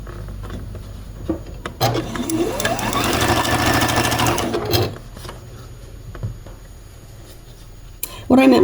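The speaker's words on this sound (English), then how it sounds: "it was hard with the design board sewing on the sewing machine" A home sewing machine stitching quilt pieces into columns for a snowman quilt, running in a steady whirring burst of about three seconds, then stopping into quieter handling noise and a sharp clack at the end.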